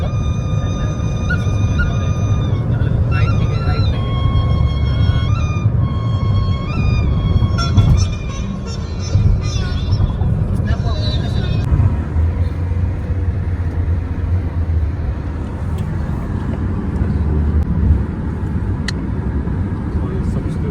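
Cars crawl through a traffic jam on a road trip to Satara, with a continuous low engine rumble, several horn blasts and squeals in the first half, and voices faintly present.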